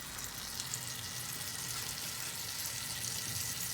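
A saucepan of water boils on a kitchen stove beside butter cooking for white asparagus and soft-boiled eggs, giving a steady close bubbling and sizzling hiss throughout with no talk.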